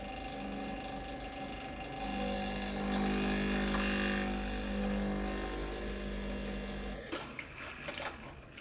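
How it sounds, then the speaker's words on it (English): A Breville Dual Boiler BES900 espresso machine flushes water through its system, a steady pumping hum and water flow that swells in the middle then stops with a few clicks near the end. "It'll run water through the system, heat everything up, and if there's any dirt, it'll actually clean the machine as well."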